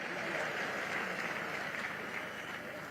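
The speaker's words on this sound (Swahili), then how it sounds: "Si tumpigie makofi tafadhali." An audience at a school 70th anniversary celebration applauds the gift presenters with steady, dense clapping that holds evenly throughout, heard from within the crowd.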